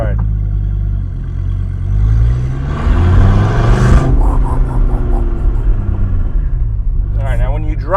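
A Dodge Viper's engine rumbles deep and loud from inside the moving car, swelling briefly as it revs, while people talk over the steady drone.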